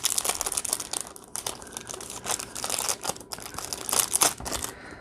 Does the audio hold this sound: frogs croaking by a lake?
no